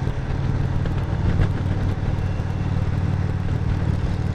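A BMW motorcycle engine hums steadily while riding, a continuous mid-pitched drone with road and wind noise, close and even throughout, without talk.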